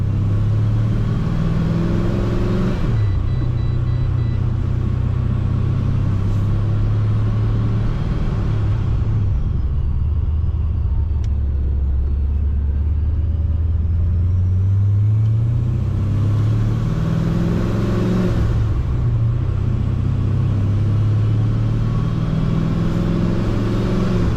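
A Procharged Pontiac GTO being driven, its engine rumbling loud and close from inside the car with rising and falling revs as it pulls away and shifts through gears.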